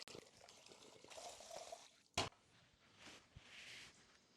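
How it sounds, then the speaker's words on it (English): Water poured out of a DI Spotless deionization filter housing, a brief faint trickle and splash, with a sharp clunk midway and quiet handling noise around it. "You're gonna wanna pour the water out."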